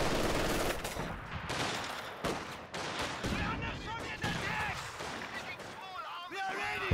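Suppressing gunfire crackles through a competitive video game match in rapid bursts of shots and volleys. The firing sits under and between steady spoken commentary.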